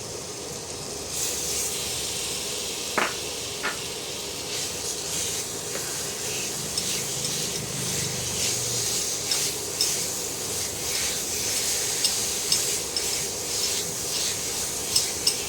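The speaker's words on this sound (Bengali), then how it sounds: "এবার এটাকে ঘিয়ের সঙ্গে ভেজে নেব" Date paste frying in ghee for a fruit sandesh sweet makes a soft, continuous sizzle and hiss under rubbing, scraping strokes of a spatula working the paste around the pan.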